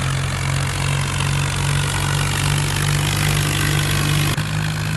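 A Swaraj 744 tractor engine in a video game, labouring under heavy load in third gear while hauling a trolley full of stones from a river, giving a steady loud droning rumble with a brief dip near the end.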